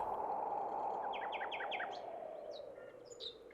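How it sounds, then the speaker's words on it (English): Birds sing in a short, quiet passage, a quick run of rising chirps followed by a few scattered tweets over a soft, low background. "the singing of birds"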